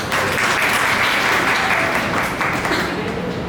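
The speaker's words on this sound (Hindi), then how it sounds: "नेहा और ज्योति के लिए जोरदार तालियां" Dense, steady audience applause fills a motivational class session for civil service aspirants, a large room of hands clapping continuously at even loudness with some voices mixed in.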